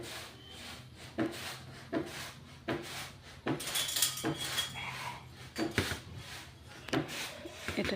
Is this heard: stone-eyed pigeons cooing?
no